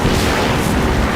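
Missile explosions in Half-Life 2, a loud continuous roaring boom with rumbling low end filling the short moment.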